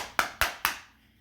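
Three sharp knocks on a deck of tarot cards in a steady rhythm, close and crisp, each ringing out briefly before the next.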